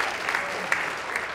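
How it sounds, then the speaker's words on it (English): An audience claps at a motivational talk, a steady dense wash of applause that stays even and fairly loud throughout, with no voices standing out. "we'll just give them a big round of applause"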